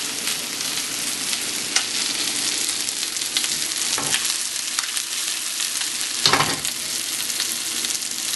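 Crappie fillets pan-searing in hot oil, a steady broadband sizzle and crackle running the whole time, with occasional louder pops and spatters and brief clinks of a utensil in the pan.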